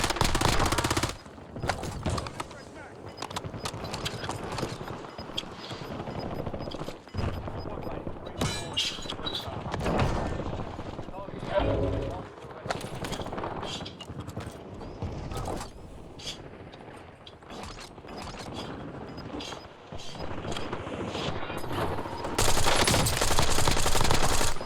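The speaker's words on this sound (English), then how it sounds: "There's so many gunshots" Rapid bursts of game gunfire crackle and clatter almost nonstop, mixing automatic fire with sharp single shots and metallic clanks.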